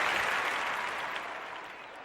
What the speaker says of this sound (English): Mustang fans are on their feet and hear that they're excited here after tying up that